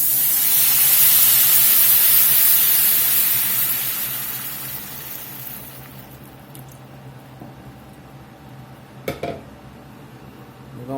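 Beef stock poured into a hot pan of browning beef for boeuf bourguignon, sending up a loud, steady sizzling hiss that gradually fades to a quieter simmer, with a few faint clinks near the end.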